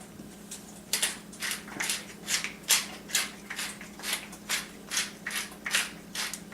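Salt and pepper ground over raw chicken cutlets for chicken parmigiana: about a dozen steady, rhythmic gritty twists of a grinder, close up.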